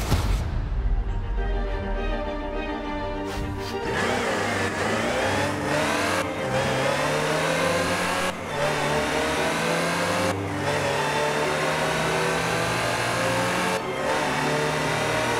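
A Land Rover in a racing video game revs hard with a mid-pitched engine roar. The pitch climbs repeatedly, broken by short gear-shift dips, and the sound stays loud and steady throughout with no talking.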